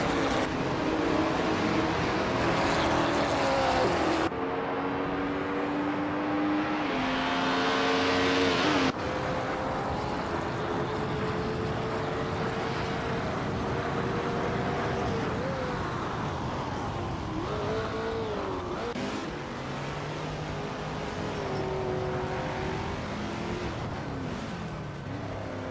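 Race cars in a video game roar continuously, engines whining up and down through gear changes as several cars jostle for position, loud and sustained throughout, no voices.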